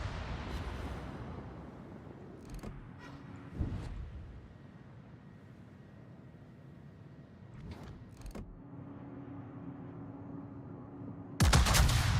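Warship main guns firing in World of Warships, several booming blasts scattered across the span, a sharp burst near the start and a louder salvo at the end, over a low ambient rumble.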